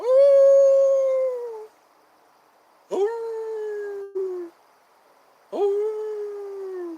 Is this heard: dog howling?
yes